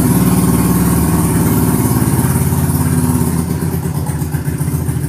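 A loud motorcycle engine with a noisy aftermarket exhaust drones steadily nearby, a rough continuous rumble that holds strong throughout and slightly eases toward the end.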